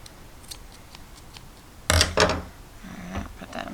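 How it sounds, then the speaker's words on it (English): Scissors snip the yarn ends off a knitted baby hat: two crisp, close cuts in quick succession, followed by faint rustling of yarn in an otherwise quiet room. "we're going to cut the ends off"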